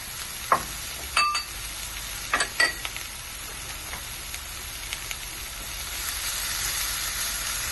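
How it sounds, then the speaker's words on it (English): Sweet pepper and frizzled saltfish sizzle in a pan, with a few clinks and scrapes of stirring near the start and a steady hiss that swells slightly toward the end, without talk. "we're going to add our sweet pepper, and we're going to add our frizzled saltfish, and we're going to just stir it."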